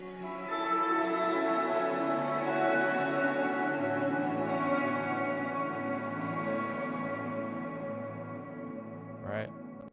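A hip hop beat loop runs through a Soundtoys Little Plate reverb, its sustained, washy tones filling the mix steadily for about ten seconds before thinning out, with a short bright hit near the end and no talking.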